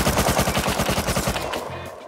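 Rapid automatic gunfire from the video game Rust, a fast burst of about a dozen evenly spaced loud shots that stops abruptly, followed by a brief quieter rattle.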